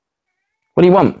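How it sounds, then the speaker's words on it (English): A pet cat lets out a single loud, close meow with a rising then falling pitch, breaking a moment of silence and ending abruptly. "I hope you can hear my cat meowing, because he's just going for it."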